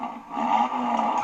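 A 2.5-liter five-cylinder turbo engine in an Audi RS3 gives a low, steady growl from inside the car, holding a droning tone for just over a second with no voices.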